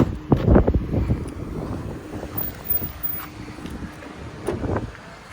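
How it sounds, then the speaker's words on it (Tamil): Wind buffets the microphone in gusty low rumbles, with the drone of a boat engine on open water running underneath. "காற்று பார்த்தீங்கன்னா சரியாக காற்று அடிக்கிறீங்க"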